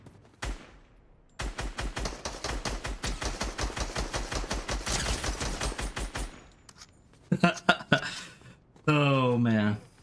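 Video game gunfire during a playtest comes in rapid automatic bursts, a long stuttering volley followed by shorter sharp shots, with voices talking near the end.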